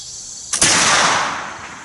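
A single loud flintlock rifle shot outdoors, a sharp crack followed by a long, slowly fading rumble of echo.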